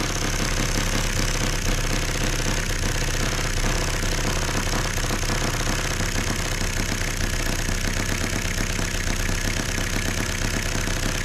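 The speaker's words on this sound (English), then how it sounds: "if you guys can hear that engine running up" A hot-bulb horizontal mill engine running continuously at an even idle, loud and close, with a constant mechanical hum and faint knocking texture throughout.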